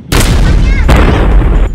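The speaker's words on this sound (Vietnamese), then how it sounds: "Để tớ sẽ dùng khẩu pháo tớ bắn con Godzilla đấy cho." A cannon fires at Godzilla in a video game, two loud booming blasts in quick succession with a long rumbling tail, close and dominant.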